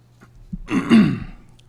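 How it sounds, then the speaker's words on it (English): A single short throat clearing, close and fairly loud, rising briefly out of a quiet room and fading within a second. "I've been clearing my throat a lot"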